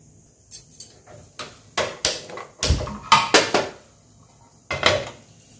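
Several sharp metallic clanks and bumps of a dosa tava griddle being set down and shifted on a kitchen stove, irregular knocks with short ringing decays and quiet gaps between, no talk.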